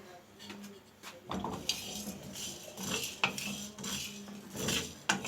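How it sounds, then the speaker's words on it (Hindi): Black peppercorns and whole spices being dry roasted in a pan in a home kitchen, with scraping and stirring clinks of a utensil against metal and peppercorns rattling, at close range. "इसको मैं करूँगी ड्राई रोस्ट"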